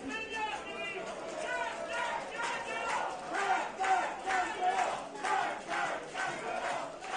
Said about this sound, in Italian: Continuano intanto a far festa i tifosi del Pontedera nonostante il risultato.